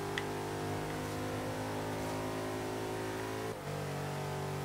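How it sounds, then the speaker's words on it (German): A car engine revs and holds a steady drone in the racing game Forza Horizon 3, the engine note likened to a Jaguar F-Type's, with a brief dip near the end as the gear changes. "das hört sich wirklich 1 zu 1 an wie der Motor aus dem Jaguar F-Type"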